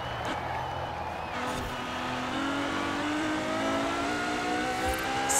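A twin turbo V8 car engine in the racing game Forza Horizon 4 holds a steady, loud drone as it climbs in pitch under acceleration, with faint tire noise and no clear talking.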